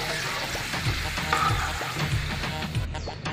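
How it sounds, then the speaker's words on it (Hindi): Papad deep frying in hot oil over a medium-high flame, a steady loud sizzle and crackle with bubbling throughout, no voices. "अब हम इसमें पापड़ डालेंगे और डीप फ्राई करेंगे"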